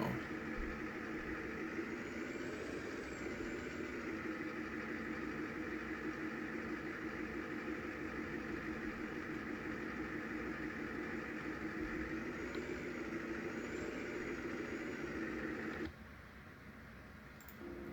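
A skid steer's engine runs at a steady idle during a jump-start, a continuous mid-pitched hum and drone that holds even and close, then drops quieter near the end.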